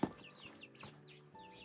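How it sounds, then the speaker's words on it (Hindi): Many roosters and hens, about thirty-two birds kept together, cluck in short overlapping bursts at a moderate distance, with no speech over them. "इतने सारे मुर्गे।"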